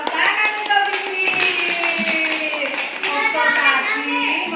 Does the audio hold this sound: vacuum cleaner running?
no